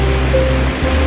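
Strong rushing water pouring through Wawa Dam, a loud continuous roar with churning surf-like texture filling the whole moment, no voices.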